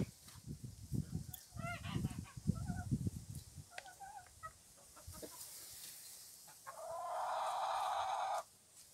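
Hens clucking in short bursts up close, a goose-like honk among them, followed by a steady higher-pitched squawking call near the end, from black-breed laying hens.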